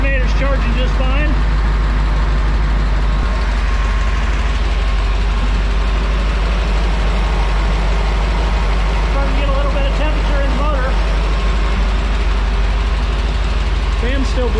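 The Boneshaker vehicle's engine runs steadily and loudly at idle, a continuous low rumble throughout while someone talks over it intermittently.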